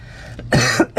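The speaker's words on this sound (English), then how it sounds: "I'm coughing because of the nitro fumes." A man coughs in several harsh bursts while handling a nitro-powered Traxxas T-Maxx RC truck engine, with short pauses between the coughs, close and loud.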